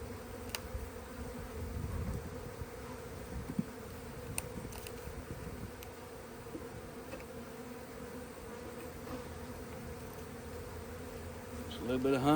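Honey bees buzz steadily around an opened hive during a hive change and queen marking, a low, dense drone close by with a few faint knocks and handling sounds and no speech.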